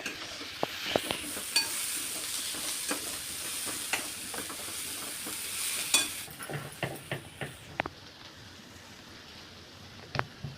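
Onion fries in oil in a pan, a bright, steady sizzle for the first part, then the frying fades and scattered clicks and taps of utensils follow, close and fairly quiet.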